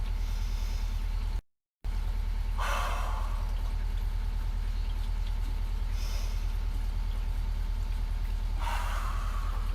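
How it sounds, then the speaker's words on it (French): Three deep breaths are drawn one at a time during an outdoor breathing exercise in the rain, each a soft, airy rush spaced a few seconds apart over a low, constant rumble. "on fait 3 grandes respirations"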